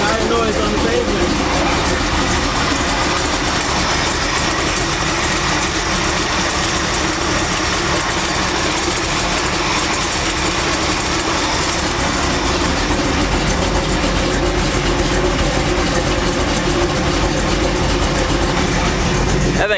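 An engine runs continuously with a loud, dense, steady rumble and road noise throughout, heard from inside or close by with no break.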